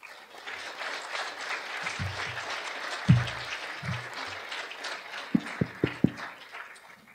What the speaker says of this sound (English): Please give our panel one last round of applause